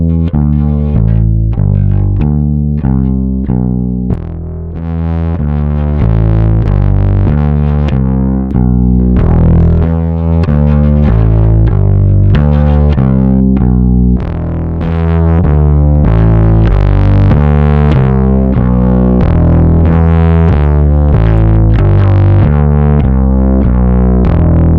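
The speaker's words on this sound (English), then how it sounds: "three little switches, which are adding different clipping diodes to add different types of distortion that you can use on their own or combine" A guitar plays dense, sustained chords and riffs through the diode-clipping distortion of a JPTR FX Jive saturation pedal. The tone is thick and fuzzy, loud and continuous for the whole stretch, and there is no talking.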